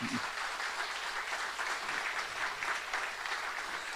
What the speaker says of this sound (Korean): 한번 박수해서 한번 격려해 주시기 바랍니다